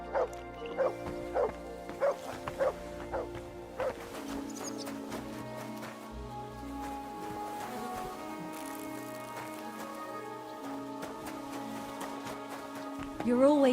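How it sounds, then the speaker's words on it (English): A dog in the video game Kingdom Come: Deliverance 2 gives a few sharp barks and yips up close, then hooves clop amid ambient game sounds and music. "Good dog, Mutt."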